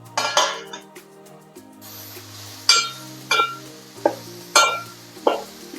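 A metal lid set onto a pan of okra curry left to steam on low heat, giving several sharp clinks and clatters of metal on metal at irregular intervals, close and fairly loud over a quiet kitchen.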